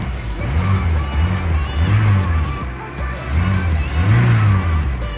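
A 1.6-litre 75 hp Volkswagen Golf Mk2 engine, started cold, revs up and down in repeated surges, loud and close, the pitch rising and falling with each push of the throttle.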